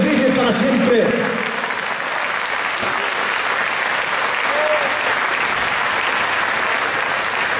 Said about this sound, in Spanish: Denle un aplauso al Señor Dios Todopoderoso, que vive para siempre